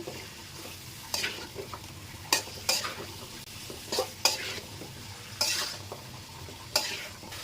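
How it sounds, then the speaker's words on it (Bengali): Cubed potatoes and pointed gourd being sautéed in spice masala, with a soft continuous sizzle broken by sharp scrapes and clinks of a spatula against the pan every second or so. "এখন এগুলো সব কিছুক্ষণ কষিয়ে নেব"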